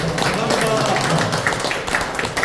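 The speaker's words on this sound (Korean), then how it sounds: "이 대목에서 박수 한번 쳐주세요." Audience applause at a political school workshop event in Yeouido, a dense steady clatter of many hands filling the whole moment at fairly close range, with no talk over it.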